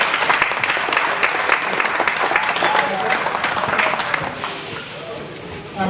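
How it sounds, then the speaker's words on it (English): An audience at a Navajo Tribal Utility Authority event gives sustained applause, a dense crowd of clapping that tapers off toward the end, with voices mixed in. "Give a round of applause,"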